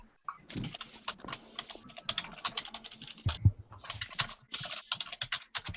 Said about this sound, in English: There's somebody typing it.